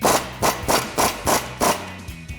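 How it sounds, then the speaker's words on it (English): An impact wrench with a 24mm socket hammers at the lower ball joint nut on a Ram 1500 front suspension, six or seven sharp rattling bursts in a steady rhythm, close and loud. "I'm gonna grab our impact and 24mm socket and take this bottom nut off."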